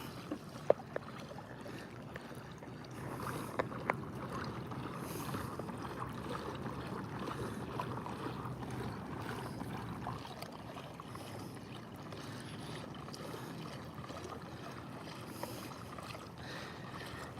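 A Hobie pedal kayak glides steadily across open water, with a continuous low wash and gentle churning from the hull and pedal drive, plus some wind buffeting the microphone and no voices.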